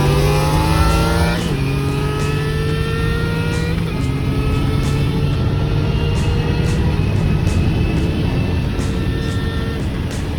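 A car accelerates hard from about 30 to about 130 mph, its engine note climbing in long rising sweeps through several gear changes, loud and close throughout.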